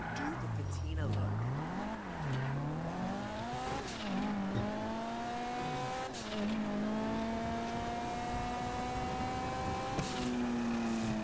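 A car engine revs up and down repeatedly in a video game, its pitch rising and falling in steady sweeps with brief tire squeals, loud and close, while someone talks over it.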